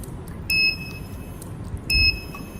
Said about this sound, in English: The buzzer and LED also lights and sounds so that the user knows that water is being dispensed.